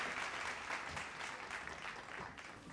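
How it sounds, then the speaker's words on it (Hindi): Applause from the audience at a News18 Bihar Jharkhand education conclave, dense and steady clapping heard at a distance for nearly three seconds, fairly faint. "जोरदार तालियां हो जाएं।"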